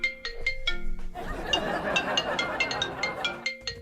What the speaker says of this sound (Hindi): ये फोन क्यों बज रहा है आपका?